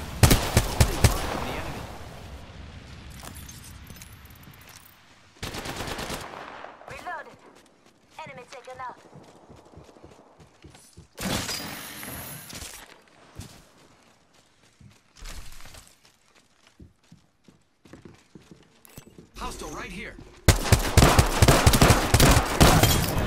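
Video game gunfire from Apex Legends comes in loud bursts of rapid shots and crackling volleys, separated by quieter stretches, with a voice talking at times.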